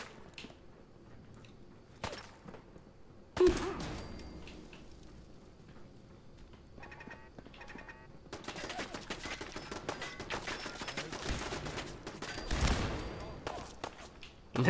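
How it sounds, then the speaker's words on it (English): Laser rifle fire in the video game Fallout 4: a few sharp, isolated zaps early on, then a long, dense stretch of loud, crackling shots. "I love the laser rifle. Ah! That's some good shooting there"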